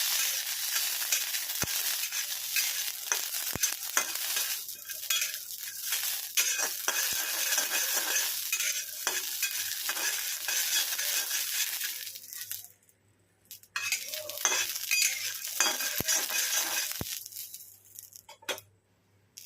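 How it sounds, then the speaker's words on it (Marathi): Peanuts roasting in a pan while being stirred, with steady scraping and rustling of the nuts against the metal and faint sizzling, continuous for most of the stretch with a brief lull near the end. "तर आपले शेंगदाणे छान असे भाजून झालेले आहेत"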